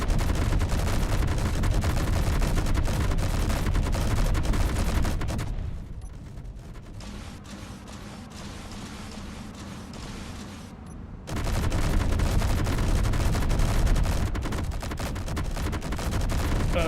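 Rapid, loud gunfire from a custom-built fighter in a video game: a dense continuous stream of shots that breaks off for a few seconds into quieter engine hum, then resumes at full rate.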